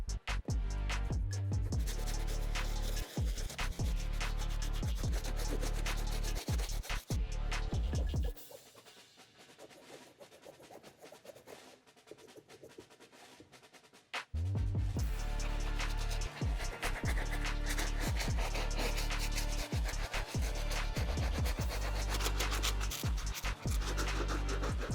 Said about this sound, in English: You can grab your microfiber towel and really scratch off at the mesh to help lift up some of that